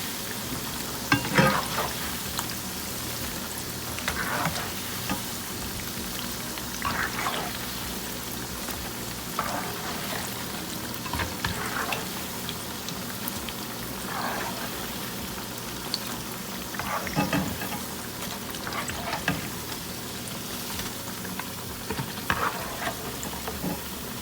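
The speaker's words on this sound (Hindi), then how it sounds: "आप देख सकते हैं कि पकौड़ों का कलर गोल्डन ब्राउन हो गया, बहुत अच्छे फ्राई हो गए" Pakoras deep-frying in hot oil until golden brown, giving a steady crackling sizzle with recurring bursts of bubbling as pieces are moved, close and fairly loud, with no talk.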